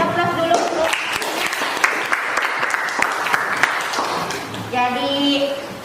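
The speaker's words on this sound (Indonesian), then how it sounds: "Oke, kita kasih aplaus dulu." Applause from a class of students, a dense burst of clapping that carries on for several seconds, with a teacher speaking briefly at the start and again as the clapping fades.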